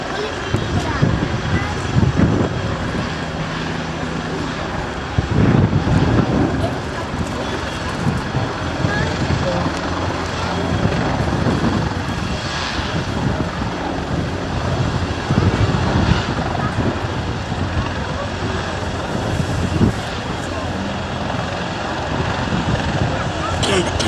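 Piston engines of a Catalina PBY-5A flying boat drone and rumble during an air display at an airday, a steady roar of moderate loudness with someone narrating over it throughout.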